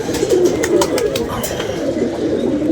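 A pigeon coos close by in soft, repeated throaty murmurs over a low background hum.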